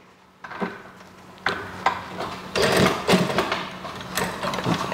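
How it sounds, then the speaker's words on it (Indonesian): A sewing machine stitches a side seam through thick twill trouser fabric, giving a steady mechanical whirring hum that starts and stops in short bursts and speeds up in a few close, loud runs. "saya mulai jahit bagian sampingnya teman-teman. Jadi sesuai garis tadi, saya jahit di sini."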